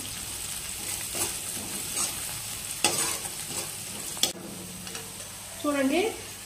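Washed, chopped amaranth leaves sizzle in a hot pan with frying onions while a spoon scrapes and stirs, adding irregular knocks and scrapes over a constant hiss, close and fairly loud.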